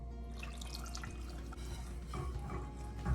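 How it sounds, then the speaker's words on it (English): A cup of water poured into lemon meringue pie filling with lemon peel, a steady trickling, splashing pour lasting a few seconds at close range with no talk. "I'm going to go ahead and add a cup of water."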